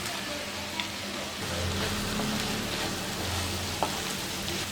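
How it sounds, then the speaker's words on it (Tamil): Fried okra goes into a sizzling tamarind curry base of onion and tomato, a constant close crackle and hiss with a couple of faint clicks, no voices. "இப்போ நான் எண்ணெயில் வறுத்து வச்சுருக்கிறேன் வெண்டைக்காய் போட்டுக்கலாம்."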